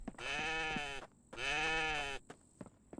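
A goat in the video game The Infected gives two long, wavering bleats in a row, close and clear, each about a second long, followed by a few faint clicks.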